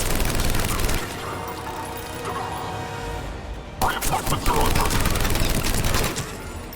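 Gunfire in the Mass Effect 3 video game, dense bursts of automatic fire and booming impacts that drop briefly and then surge back louder, with game dialogue mixed in.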